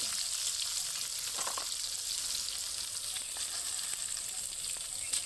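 Mustard seeds, split lentils and dried red chillies sizzle steadily in hot tempering oil, a continuous bright crackling hiss with a few faint pops and no voices.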